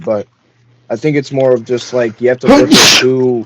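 A single sharp sneeze bursts out in a steam room in the middle of a group conversation, with talking right before and after it.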